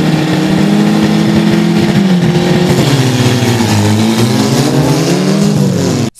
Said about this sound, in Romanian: după ce motoarele au fost turate puternic